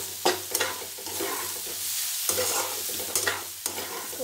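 A spoon stirs raw papaya bhujia around a hot pan, giving repeated scraping strokes over a steady low sizzle, close and fairly loud, with no voices.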